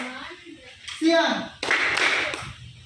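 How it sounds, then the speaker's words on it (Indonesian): Children in an Indonesian classroom clap their hands together in a burst of loose, overlapping clapping that follows a teacher's spoken prompt and some children's voices. "Oke, tepuk tangan dulu."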